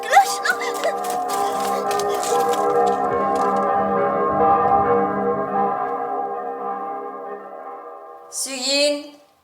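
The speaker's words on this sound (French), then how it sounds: "on sonne les cloches" Church bells ring in a dense, overlapping peal that slowly decays over several seconds, followed by a brief voice at the end.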